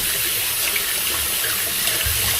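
Steady, loud rush of tap water running into a sink while raw pork for adobo is washed, a dense continuous splash with no voices.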